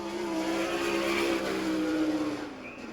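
A sprint race car engine screams through a timed lap at Lincoln Speedway in Abbottstown, Pennsylvania, a steady high-revving roar that holds loud and then slowly fades near the end.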